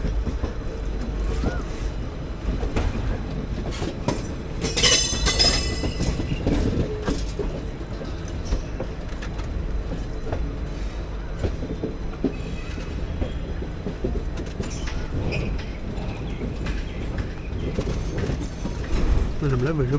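Guruvayur–Chennai Express (16128) rolling into Villupuram Junction toward platform 1, heard from inside an AC 3-tier coach: steady wheel rumble and carriage rattle with a brief squeal near the middle, continuous throughout with faint talk in the background.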